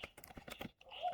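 Keys tapped on a computer keyboard while an HTML label tag is written, a quick run of close, light clicks with a brief pause partway through.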